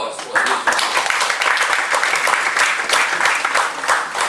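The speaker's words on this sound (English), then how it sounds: "Another round of applause for this." Sustained applause from an audience at a company presentation, dense steady clapping filling the whole stretch at close range.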